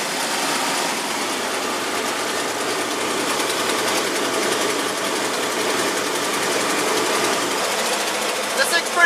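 Motor home engine running while driving, a steady loud drone with road noise throughout, with a voice talking over it.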